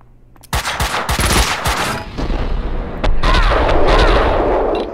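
Gunfire in the video game Max Payne 2: rapid bursts of loud, close shots crackle in quick succession, then a dense sustained volley with echoing booms fills the final seconds.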